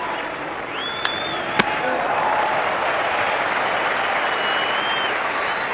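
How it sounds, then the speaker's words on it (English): A cricket crowd applauds a fine piece of fielding during an India versus England match, a broad steady wash of distant clapping with a couple of sharp knocks early on and faint whistle-like tones drifting above. "And a round of applause for a fine piece of fielding."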